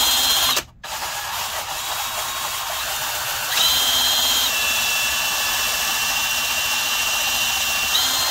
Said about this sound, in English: we are going to turn the drill on